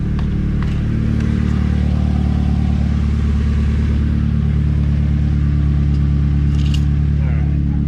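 Mazda Miata idling with a new ISR exhaust, a steady, loud, deep low rumble running throughout, with light clinks and some background voices.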